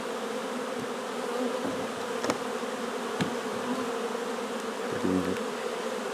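Honeybees hum steadily in a dense buzzing cloud around a nucleus being moved into a hive body, with a few louder bees passing near and brief handling knocks.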